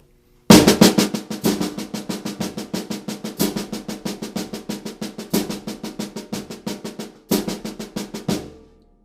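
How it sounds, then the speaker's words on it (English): A snare drum plays a triplet roll of evenly doubled triplet strokes without accents, a rapid steady stream of close, crisp hits in a few long phrases separated by brief breaks, with no talking. "then the next step is this idea of the triplet roll."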